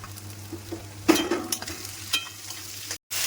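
Spices frying in a pan with onion, garlic, ginger, cashews and tomato, giving a low sizzle with scattered utensil scrapes and a few louder stirring bursts, close up and quiet, no talk.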